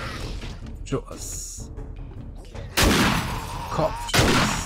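Gunshots in the zombie survival video game 7 Days To Die, with two loud sharp blasts ringing out after quieter in-game sounds, close and forceful.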